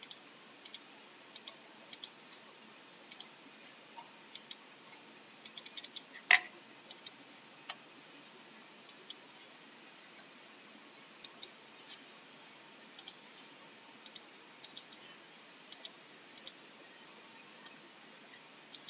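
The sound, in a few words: computer mouse clicking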